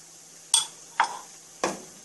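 A utensil clinking against a pan while stirring onion and garlic, three sharp separate metallic taps at irregular intervals over a faint low hum.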